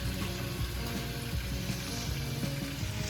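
Pasta sauce with peppers and minced garlic sizzles and bubbles in a pan, a loud, steady close frying hiss with soft stirring scrapes throughout and no talking.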